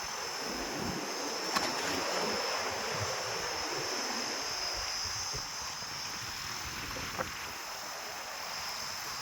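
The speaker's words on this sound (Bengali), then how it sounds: "ব্যাপক ঢেউ চলছে এখানে।" Continuous roar of Bay of Bengal sea waves washing in at high tide during a deep depression, a steady broadband rush with wind, occasional faint knocks and no voices.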